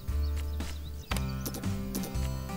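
Horses in the farm game Farm Manager 2021: several soft clip-clop hoof steps and brief neighing sounds over a steady low game hum, with no talk.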